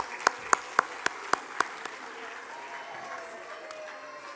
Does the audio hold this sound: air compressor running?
no